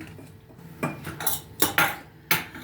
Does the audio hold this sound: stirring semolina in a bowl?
yes